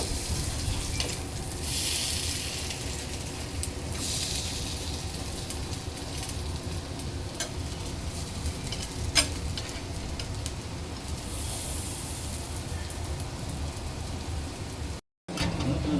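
Bottle gourd and paneer cutlets fry in a pan with a steady, close sizzle and crackle, continuous and fairly quiet, with a brief dropout near the end.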